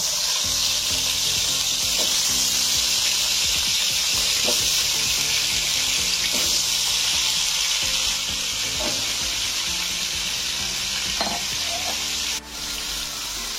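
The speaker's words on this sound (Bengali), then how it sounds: "এই তেলের মধ্যে আমি আলুগুলো দিয়ে দেব।" Potatoes, three of them cut into pieces, fry in hot oil for a Bengali bhetki fish and potato curry, giving a loud, steady sizzle throughout with occasional stirring clinks and no voices.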